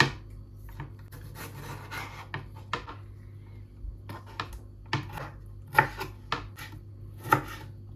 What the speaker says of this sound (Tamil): நான் வந்து ஒரு தக்காளி சின்ன கட் பண்ணி போட போகிறேன்